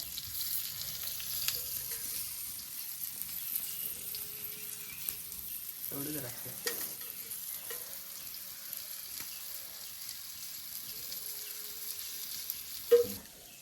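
Chicken sautéing in a pan in a village kitchen gives off a steady, soft frying hiss that runs throughout, broken by a few clinks and stirring knocks, with one louder clatter near the end.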